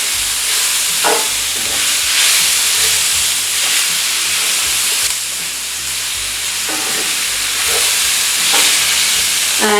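Merguez sausage sautéing in a hot pan gives a loud, continuous sizzle and hiss, with occasional scraping stirs breaking through the steady frying noise.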